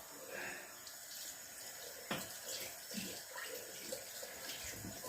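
Cold tap water runs steadily over burns, a continuous close hiss and splash with a few small knocks, with no talking.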